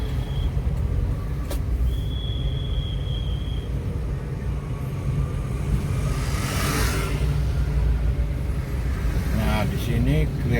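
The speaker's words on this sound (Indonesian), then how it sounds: "Di sini kelihatan jalan MP Mangkunagaran cukup padat sekali lalu lintasnya." Heavy morning traffic of cars, motorbikes and buses rumbles steadily past a busy four-way signalised intersection on MP Mangkunagaran street, with a brief horn, a passing vehicle swelling midway and a voice talking over the din.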